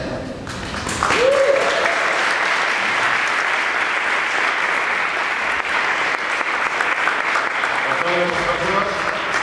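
Sustained audience applause greets guests introduced on stage for a series Q&A, a loud, continuous roar of clapping with a voice speaking over it at the start and end.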